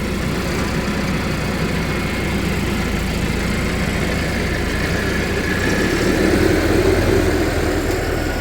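A tractor engine runs steadily while working a soil screener on stony ground, a loud continuous low rumble and drone throughout with a slight swell toward the end and no voices.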